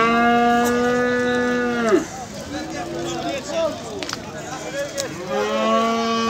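Calves at a livestock market in Beylagan moo loudly, one long low call at the start and another near the end, with crowd chatter and market bustle in between.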